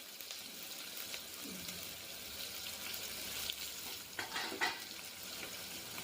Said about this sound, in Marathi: तेलात मी आता कांदा, टोमॅटो आणि आलं लसणाची पेस्ट टाकणार आहे